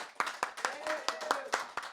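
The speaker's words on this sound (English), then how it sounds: "Let's give them another round of applause" A small live studio audience at a music show claps in a steady rhythm of sharp, evenly spaced claps, close and moderately loud, while a voice talks over it.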